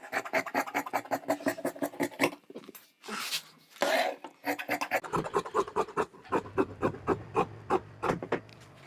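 Salwar fabric is cut in a rapid run of short, crisp snipping strokes that pause briefly in the middle, then resume in a steady rhythm, close by.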